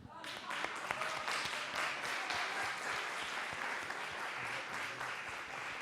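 Applause from dancers of the Street Harmony association, directed at the audience at a danced lecture, a dense steady wash of clapping filling the room with some voices mixed in throughout.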